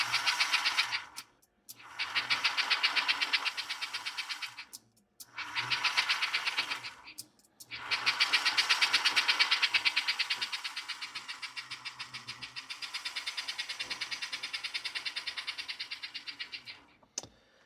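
A restored 1953 American Flyer #301 toy steam engine runs on its track, giving a steady mechanical whirring and rattling chatter in long bursts broken by brief pauses, fairly close and with no talking.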